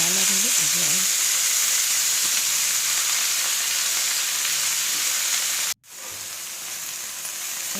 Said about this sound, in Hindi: इसी कढ़ाई में हम मूली के पत्तों को जो मैंने रात में रखा था छौंकने के लिए, इसको छौंक देंगे